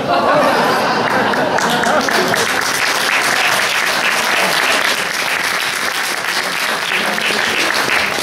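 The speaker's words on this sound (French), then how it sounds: "je vous demande d'applaudir les oiseaux rares qui vont rentrer" A theatre audience breaks into loud, sustained applause, dense clapping that fills the whole stretch at an even level with a little crowd chatter mixed in.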